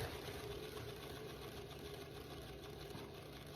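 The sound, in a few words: paint spinner spinning an abstract pour painting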